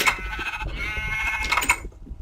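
Sheep in a video game bleat several times over a steady background hum, nasal calls rising and overlapping, fairly close.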